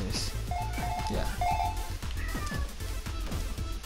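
Cat meows ring out over busy video game music and effects in JumpJet Rex on PS4, a few short calls repeating across the clip, partly buried under the soundtrack.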